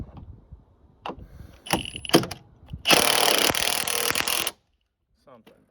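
A power tool trims a strut part for lowering an 86 LeBaron K car, giving a loud, close buzzing cut of about two seconds after a few short clanks and bursts, with someone speaking around it.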